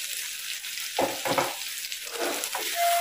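Chicken frying in an uncovered pan, a steady close sizzle with a few louder bursts as the meat is stirred.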